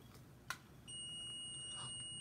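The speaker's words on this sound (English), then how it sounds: "Mug press is beeping. That's alerting you that your item is finished." A mug press sounds a steady, continuous electronic beep after one brief click, signaling that a finished tea candle holder is ready. The beep is clear and fairly loud against a quiet room.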